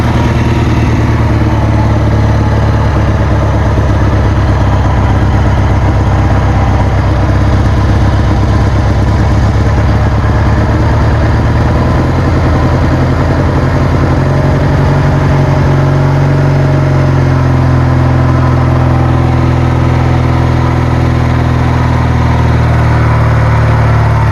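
A treadmill motor drives a homemade stump grinder in a steady, loud, close mechanical drone with a rough low hum that shifts pitch partway through, running continuously without talk.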